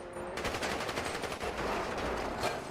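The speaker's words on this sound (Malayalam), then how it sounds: "ഇത് ആരൊക്കെയാണ് പിടി വെടിയിക്കുന്നുണ്ട്?" Rapid bursts of gunfire crackle through a GTA roleplay game session, dense and steady for a few seconds at moderate volume with no talk over it.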